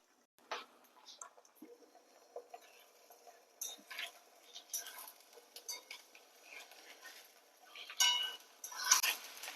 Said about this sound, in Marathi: तर आता हे सगळं आपल्याला व्यवस्थित करून घ्यायचं आहे तर हलवत राहायचे